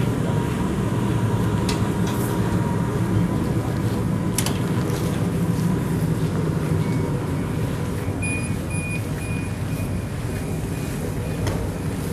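Steady low rumble of a moving train interior in Calgary, Alberta, in -40°C weather, constant broadband noise with faint high whines near the end, no talking.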